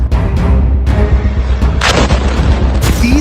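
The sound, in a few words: explosion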